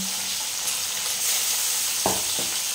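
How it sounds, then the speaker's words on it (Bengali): Small fish frying in hot oil in a pan, a steady close hiss of sizzling throughout with a couple of brief louder crackles near the end. "মাছগুলো হালকা করে ভেজে নেব।"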